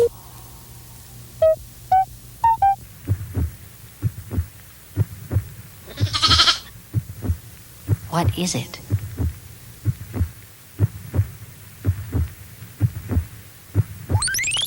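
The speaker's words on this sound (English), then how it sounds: "The sound is heartbeat of a lamb." A lamb's heartbeat throbs as a steady, regular thump, soft and close, carrying through the whole stretch while a voice speaks briefly near the start and a few other brief noises come and go.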